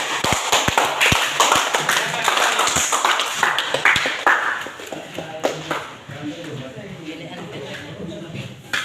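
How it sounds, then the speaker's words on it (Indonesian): A group claps in a classroom after a team's presentation, with scattered sharp claps over talk throughout, the clapping thinning out toward the end as speech continues. "kita berikan tepuk tangan dulu"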